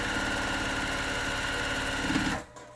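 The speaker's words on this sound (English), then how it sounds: "So now I'm going to top stitch the rest of it." A sewing machine top-stitches a fabric face mask with a steady, fast mechanical whir of rapid needle strokes close by, stopping abruptly near the end.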